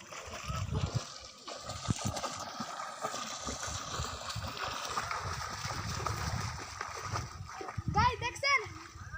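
A child splashes in water while learning to swim without a life jacket, in a village pond at Ramshil, Kotalipara; steady close splashing and sloshing runs throughout, with children's voices and talk over it.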